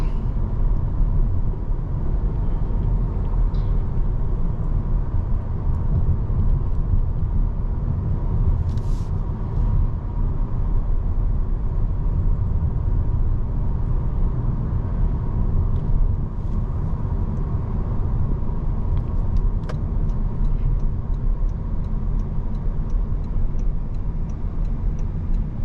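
A 2025 Toyota Camry XSE cruises along, heard from inside the cabin as a constant low road and engine drone with steady tire rumble and a few faint ticks.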